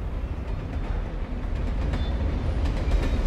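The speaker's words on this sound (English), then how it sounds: "Got a train ripping and rocking above our heads." A train rumbles overhead in the video game Alan Wake, a dense, continuous roar with rattling wagon clatter and no pauses.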